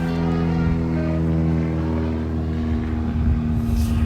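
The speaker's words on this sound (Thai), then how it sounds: "ข้างบนก็ จะเห็น เครื่องบินบินผ่าน" A propeller airplane passes overhead above a lakeside picnic and fishing spot in Hungary, its steady, humming engine drone holding evenly throughout with no voices.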